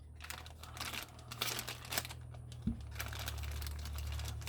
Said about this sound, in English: open up our packaging for our product